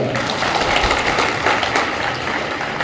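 Scattered, moderately loud applause from an audience gathered at a welcome ceremony, clapping continuously for a few seconds.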